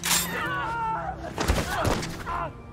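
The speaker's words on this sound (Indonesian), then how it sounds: "Sniper ini kembali menembak." A sniper rifle fires in an action film, with a couple of sharp, punchy cracks rising out of dramatic music and voices in the scene.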